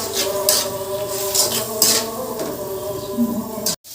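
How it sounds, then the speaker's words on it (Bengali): Spice paste frying and being stirred in a pan for a fish and bottle gourd curry, a steady sizzle with scraping and clinking of a utensil against the pan, close and continuous with no talk. "ভালো করে মশলাটা কষাই নেব"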